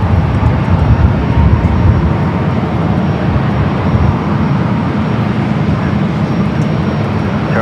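An ITA Airways jet on runway 24 left at Los Angeles airport, bound for Rome, gives a steady, loud broadband engine roar that holds evenly throughout without any voices.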